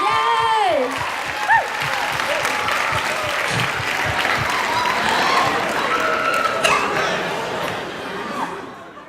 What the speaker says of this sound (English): Can everyone please have a round of applause for Santa?